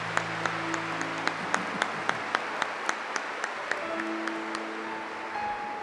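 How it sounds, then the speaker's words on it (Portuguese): A church congregation at Mass claps in a slow, even rhythm of sharp single hits, with sustained keyboard tones beneath. "Pode aplaudir a palavra do Senhor."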